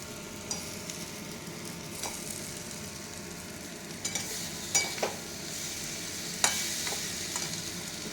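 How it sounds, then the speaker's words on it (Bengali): Catla fish heads fry in a pan with a steady hiss and crackle, broken by occasional scrapes and knocks of stirring, close and moderately quiet with no talk. "মাছের মাথাগুলো দিয়ে দিচ্ছি, কাতলা মাছের মাথা।"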